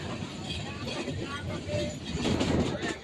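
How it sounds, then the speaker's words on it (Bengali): Low rumbling rattle of a moving train carriage passing through tea gardens in Moulvibazar, a steady rolling drone with a voice talking over it. "আমাদের ট্রেনটি এগিয়ে চলছে"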